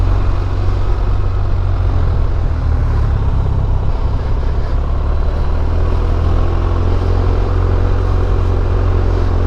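A BMW R1250RT boxer motorcycle engine idles or runs nearby with a steady, loud, deep low rumble and even throbbing that holds without change throughout, no talk.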